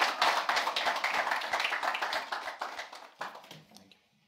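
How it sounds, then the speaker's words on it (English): A crowd gives a round of applause for a political leader at an evening event, dense clapping that holds steady and then tapers off to silence over a few seconds. "Let's all give him a huge round of applause."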